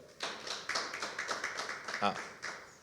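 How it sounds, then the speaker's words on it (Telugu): A church congregation claps along during a sermon, a run of quick, fairly faint, rhythmic claps mixed with voices. "చప్పట్లు కొట్టండి ఒకసారి."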